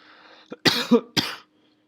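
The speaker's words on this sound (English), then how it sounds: "Excuse my cough." A person coughs a few times up close, short harsh bursts with brief pauses, then quiet.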